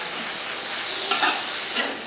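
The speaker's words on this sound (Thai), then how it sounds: "ผัดให้เข้ากันกับข่าตะไคร้ให้ไก่สุก" Steady sizzling of boneless chicken being stir-fried with galangal and lemongrass in a hot pan, with a few scraping stirs of a utensil partway through.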